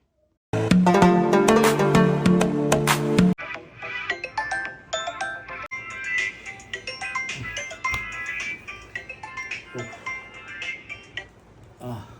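A phone rings in a home, a loud repeating ringtone melody for a few seconds before it stops, followed by quieter scattered household sounds and brief voices.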